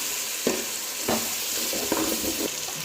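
Turmeric being stirred into a sizzling dish in a pan, with a spatula scraping in a few short strokes over a constant frying hiss, close and fairly loud, no talking.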